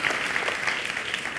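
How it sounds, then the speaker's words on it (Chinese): A conference audience at a TEDx talk in Taipei claps in a brief, even burst of applause that fills the short moment without any voice. "请给热烈的掌声。"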